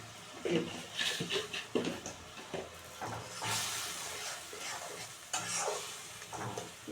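Egg curry masala with turmeric and sugar is stir-fried dry in a pan, a moderate sizzling hiss and scraping stirs that come and go under someone talking.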